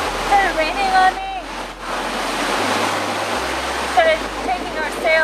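Squall aboard a sailboat crossing the Atlantic, with steady rushing rain and wind noise and waves washing close by, joined by short whistling or squealing tones and a brief lull near the middle.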